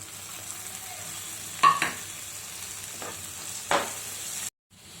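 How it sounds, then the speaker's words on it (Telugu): Onions and soaked chana dal frying in a pan: a soft, steady sizzle runs throughout, broken by two brief louder stirring scrapes, and it cuts out near the end. "ఇప్పుడు ఉల్లిపాయలు వేగిపోయి మనం వేసేసుకుందాం"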